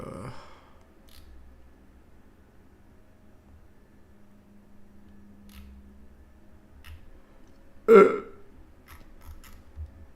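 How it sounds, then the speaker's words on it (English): A single short burp erupts about two-thirds of the way through, loud and close, standing out against a quiet room hum with scattered faint clicks. "that was a weird burp"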